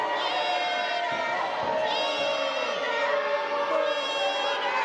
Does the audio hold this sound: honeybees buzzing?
no